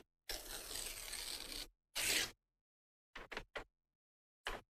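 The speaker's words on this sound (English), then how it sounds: "So let's tear this down there." Vellum paper torn by hand for handmade card edges: one long rasping tear, then a shorter burst, a few quick rips and a final brief tear, close and crisp with silence between.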